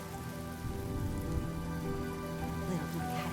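Rain in the video game Honkai Star Rail falls steadily on surfaces, a dense continuous patter with scattered drops, set under a soft tonal background hum.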